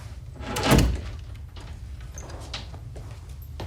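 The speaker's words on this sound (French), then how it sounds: "Fermez la porte derrière vous," An office door being pulled shut, heard as a single close sliding sweep ending in a soft thud, then quiet room tone with faint small sounds.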